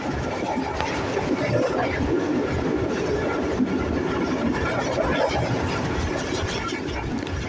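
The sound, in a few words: train passing through a railway station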